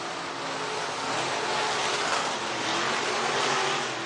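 Race cars at the IMCA dirt track speedway in Boone, Iowa, roar around the top of the track in a dense, continuous wall of engine noise that swells slightly as the pack passes.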